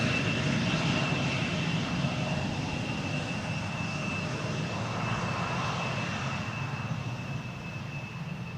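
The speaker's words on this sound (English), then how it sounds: "Very polished landing." A large airliner lands at Amsterdam Schiphol Airport, its engines giving a steady, broad, moderately loud roar heard from a distance that fades slightly toward the end.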